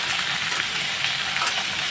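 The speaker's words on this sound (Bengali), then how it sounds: "এদিকে তো আলুটা ভাজা হচ্ছে এখনও হয়নি তো নাড়াচাড়া দিতে হচ্ছে মাঝে সাঝে" Potatoes fry in a pan for a home-cooked mixed vegetable meal, giving a dense, continuous close hiss that stays even from start to finish.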